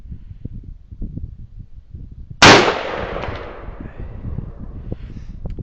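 A single sharp rifle shot outdoors in snow-covered terrain at about 200 yards, loud and sudden with a decaying echo, following low rustling background noise.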